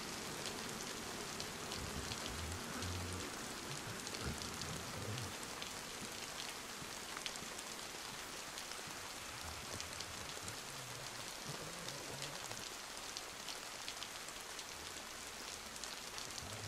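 Steady rain falls in the video game DayZ, a soft, continuous hiss of drops that stays faint and even throughout, with no talking.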